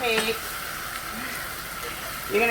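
Gravy for a Korean-style loco moco sizzles steadily in a pan as it is stirred, close and continuous, with faint scraping at the start and end.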